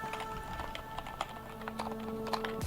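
Faint, quick keystrokes tap on a computer keyboard as a word is entered into a Windows 10 search box. The clicks come in short, uneven bursts over a quiet room hum.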